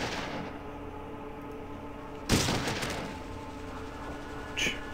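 A gunshot in the video game Fallout 1 fired at an assassin, a single sharp blast over steady game ambience, with a faint second report near the end.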